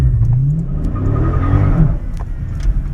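A Dodge Charger Scat Pack launches from a launch-control hold at 2,500 rpm, its engine rising loudly from a steady rumble into a hard, revving acceleration that swells and then eases off, close and alone.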